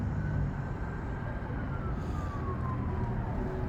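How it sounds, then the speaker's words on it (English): A faint siren wails in the distance, its tone slowly sliding downward over a steady rumble of traffic and ambient noise. "You hear the sirens?"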